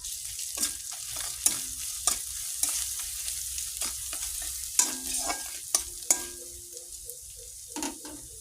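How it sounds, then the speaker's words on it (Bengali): Turmeric and chili powder sautéing in a pan, a soft steady sizzle broken by regular sharp scrapes and clinks of the spatula stirring, close and without talk. "দিয়ে দেব হলুদ গুঁড়ো দিয়ে দেব লঙ্কার গুঁড়ো এটা কষাবো"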